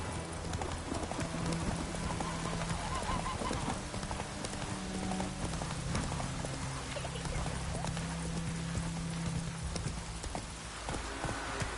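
A horse gallops in The Witcher 3, with steady rhythmic hoofbeats drumming close and loud over a rushing, busy game soundscape, while a voice speaks briefly over it.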